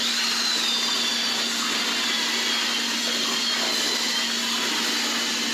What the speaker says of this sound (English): I use this electric drill